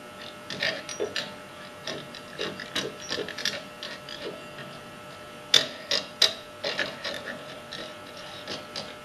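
A wing nut tightened down on a hole saw fixture, giving close, rapid ratcheting clicks and small metallic ticks in short bursts, with a few sharper clacks near the end.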